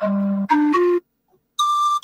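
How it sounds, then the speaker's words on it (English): A Fairlight Series III sampler plays a short swanee whistle sample: sliding notes, a low tone stepping upward in a few quick pitches, a brief silence, then a final high steady note. "Swanee whistle."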